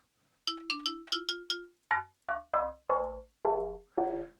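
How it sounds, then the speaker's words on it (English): Sampled toy xylophone notes played in the Xfer Serum 2 synth: a quick run of bright, bell-like plinks, then slower, lower mallet tones, each note clean and distinct with short ringing decay, no voices. "So I'll switch back to my toy xylophone."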